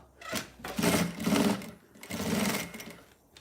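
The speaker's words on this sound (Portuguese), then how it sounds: "Agora eu venho aqui e eu vou rebater a costura" A sewing machine topstitches a seam on fabric for a small flower-shaped zippered pouch, running in three rapid whirring bursts separated by brief pauses, close and clear.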